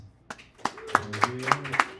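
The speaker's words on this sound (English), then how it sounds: "give a round of applause for all the people who helped put this on tonight" A small audience at an evening event claps for the organizers, a few distinct hand claps building into scattered, rhythmic clapping over about two seconds, close by, with some voices underneath.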